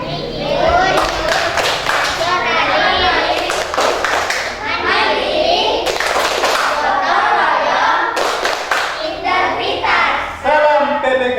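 A group of children performs the Tepuk PPK rhythmic clapping chant in a classroom, loud patterned bursts of hand claps alternating with chanted voices, close and energetic throughout.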